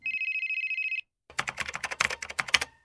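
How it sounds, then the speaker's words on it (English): A phone rings once in a continuous electronic trill lasting about a second, followed after a short pause by a quick burst of clattering, tapping sounds, all fairly close and clean. "Oh, wait. My phone is ringing."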